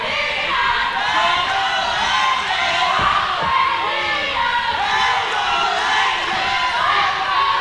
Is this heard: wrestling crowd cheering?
yes